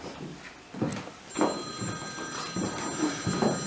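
Mobile phone ringing during a theatre rehearsal, an electronic tone with steady sustained pitches entering partway through and continuing over quiet room noise and faint stage sounds.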